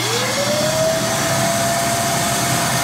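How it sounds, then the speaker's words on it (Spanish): A Karcher WD2 Plus wet/dry vacuum cleaner runs loudly and steadily, its motor whine rising briefly at start-up and then holding a constant pitch with a broad airy roar. "Vamos a prender primero el cronómetro y luego vamos a prender la aspiradora."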